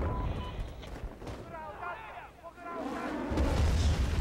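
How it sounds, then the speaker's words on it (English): Rocket strike explosions in the Medal of Honor video game, heavy booming artillery-like blasts and gunfire, loud and close, with a voice talking over the start. "And that gives me my rocket strike"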